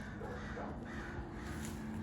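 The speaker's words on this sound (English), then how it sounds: "Since those crows are going crazy, they're everywhere." Crows cawing in a flock scattered all around, calls rising now and then over a steady low hum and a continuous outdoor background, fairly faint and distant.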